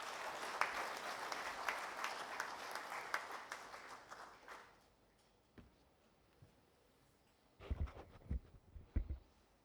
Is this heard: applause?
yes